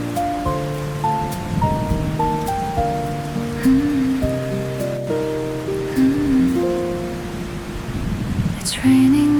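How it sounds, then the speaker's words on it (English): Steady rain falls and patters on surfaces throughout, with a soft, even hiss under a gentle melody of old-style pop with a Korean traditional mood. "It's raining and I'm going out anyway."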